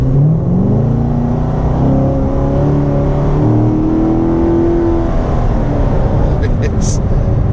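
A Corvette Grand Sport engine revs and accelerates hard from about 36 mph, its pitch climbing steadily and loud up close, with a brief higher whine near the end.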